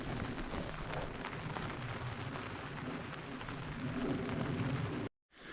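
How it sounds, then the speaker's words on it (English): Heavy rain pours down on a tarp during wild camping, a dense, continuous patter and drumming that holds steady throughout, then briefly cuts to near silence at the end. "But yeah, absolutely peeing it down."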